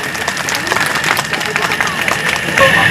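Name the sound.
audience applause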